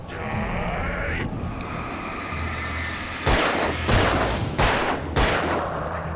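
Gunfire in the video game Alan Wake: a few sharp, loud shots burst out in quick succession over a dense, rumbling game soundscape.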